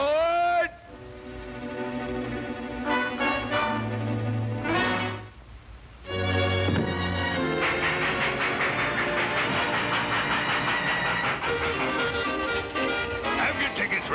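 In a classic cartoon, a train rumbles along with steady mechanical noise and hissing, briefly dropping out midway, while music plays over it throughout.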